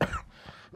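A man with a cold clears his throat and coughs once, a short, close, fairly loud burst at the start that fades into quiet room tone.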